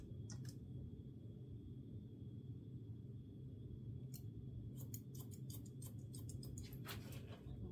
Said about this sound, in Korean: 그대로 일자로 센터 먼저 잘라 주시고요